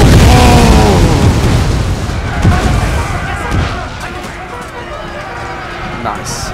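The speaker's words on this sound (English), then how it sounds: "Toss the grenades!" Grenades exploding in Empire: Total War amid a battle, a loud dense roar of blasts and gunfire at the start fading into a chaotic battle din, with a voice talking over it.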